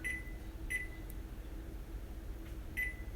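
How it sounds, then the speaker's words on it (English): A kitchen timer sounds during shrimp Alfredo prep, giving three short, clear electronic beeps spaced about a second apart over a steady background hum, with no voices. "But I will put a timer on here."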